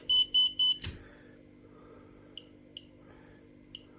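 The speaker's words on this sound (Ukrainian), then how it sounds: "Так, і вмикаємо звук сирени, щоб був так все." A radiation dosimeter's siren alarm switched on: three loud, evenly spaced electronic beeps, then a click, followed by faint, sparse chirps at irregular intervals.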